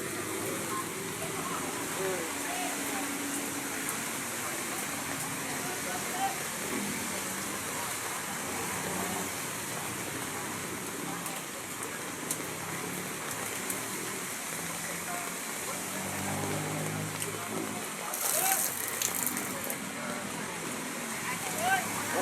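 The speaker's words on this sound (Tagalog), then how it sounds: "Kasi nga sa lakas ng ulan" Heavy typhoon rain pours steadily over a street market in Tondo, a dense, even hiss with faint traffic beneath, continuing unbroken throughout.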